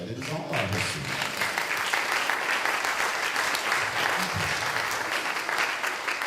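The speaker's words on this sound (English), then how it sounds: "And yes, you can clap to that." Steady audience applause fills the room, dense and fairly loud, during a Black History talk, with a few voices and cheers mixed into the clapping.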